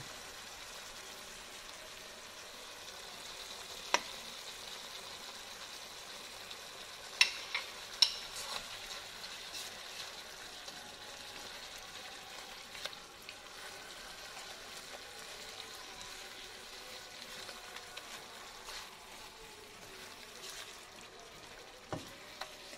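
Red snapper woku is stirred in a pan with a little water, palm sugar and salt, giving a soft, steady sizzle with occasional faint scrapes and taps of the spoon.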